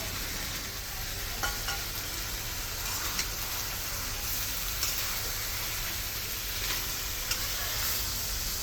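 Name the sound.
spices sizzling in pan for chicken biryani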